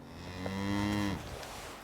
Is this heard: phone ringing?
no